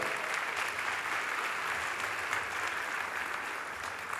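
At the opening ceremony of the 41st Istanbul Film Festival, a theatre audience claps continuously as a guest is welcomed onto the stage. The dense applause is steady, even and somewhat distant throughout.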